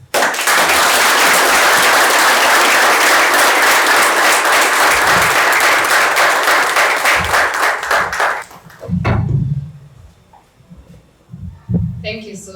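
Loud, dense audience applause at a book launch for SIBILOI, The Genesis of Humanity, filling about eight seconds before cutting off, followed by a few voices speaking.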